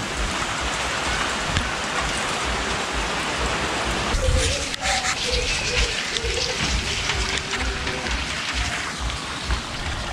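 Steady rain pours down at a house renovation site in Bicol, a dense constant hiss with heavier drumming drops on surfaces, continuous throughout with faint talk beneath.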